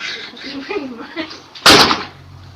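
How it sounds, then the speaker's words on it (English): A house door closes with a single sharp slam, preceded by a voice speaking and followed by low room hum. "Dude, my door just closed."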